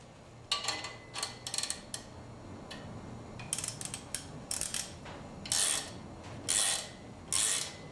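A wrench works loose the crankshaft pulley bolt on a Nissan KA24DE engine held by a puller. Several bursts of ratcheting clicks come up close in repeated strokes, with short gaps of quiet between them.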